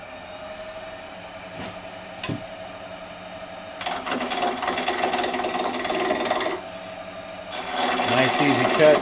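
A bowl gouge cuts a wooden pen blank spinning on a lathe mandrel, producing a close, rough scraping hiss in two sustained passes over the steady hum of the lathe.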